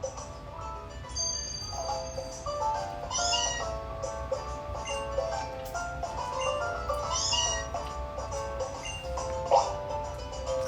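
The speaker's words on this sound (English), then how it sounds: "Ah, Meowth. Lovable goof." Meowth, a Pokemon in Ultra Sun and Moon, gives repeated synthesized video-game cat cries, several tonal meows in a row over faint game sound.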